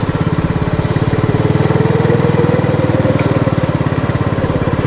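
A motorcycle engine chugs steadily and loudly throughout, a rapid rhythmic putter as the bike rides along a narrow road toward an eco park in Naujan, Oriental Mindoro, with no voices.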